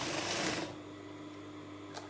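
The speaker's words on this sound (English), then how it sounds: "I use a normal straight machine stitch and I'm just going to stitch it all the way down" A sewing machine runs a straight stitch down the skirt of a cold shoulder dress, loud and whirring at first, then dropping to a quieter steady hum with a small click near the end.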